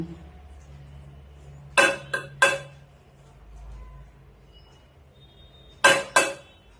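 Steel plate and utensil clinks while rice is mixed by hand before eating: two short bright clatters close together, a pause, then two more, set against a quiet room.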